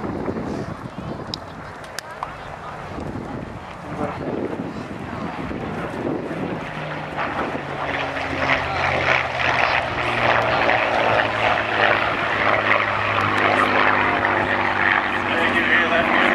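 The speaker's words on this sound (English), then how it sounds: "There you hear that beautiful throaty roar of Rolls-Royce Merlin engine." A WWII Spitfire's Rolls-Royce Merlin engine roars past at an airshow, a loud, sustained throaty drone that swells and grows stronger toward the end, with a voice talking over it.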